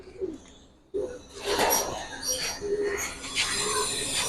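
Pigeons of old Giribaz breeds, Bagha and Jabra, at a crowded pigeon fair, with cooing and bird calls mixed into a loud, steady murmur of people and market noise after a brief quiet start.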